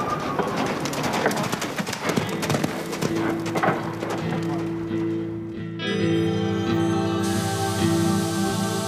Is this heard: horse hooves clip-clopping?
yes